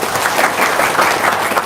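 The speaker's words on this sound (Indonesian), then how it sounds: "Tepuk tangan dong" Loud, continuous clapping from an audience at a talk, a dense wash of many hands filling the whole brief moment without speech.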